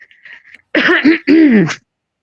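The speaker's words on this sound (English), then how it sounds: "I need to clear my throat." A close, forceful throat clearing in two rasping, gravelly pushes, preceded by a faint murmur.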